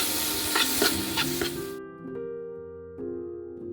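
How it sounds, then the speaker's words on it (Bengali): Spice paste and marinated chicken stirred and fried for a Bengali-style chicken curry, giving a busy sizzle with scraping spoon strokes for nearly two seconds before it drops away under steady background tones. "এটাকে ভালো করে কষে নেবো একবার"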